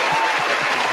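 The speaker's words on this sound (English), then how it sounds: "just the applause, man" A burst of canned applause plays as a sound effect on a live radio show, a bright, constant wash of clapping that lasts about a second.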